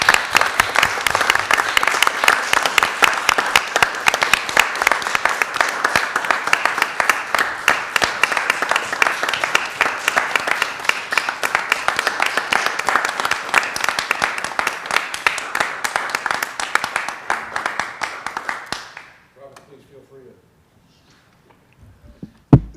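Sustained applause at a council meeting, dense steady clapping from a crowd for about nineteen seconds before dying away to near silence with a few stray sounds.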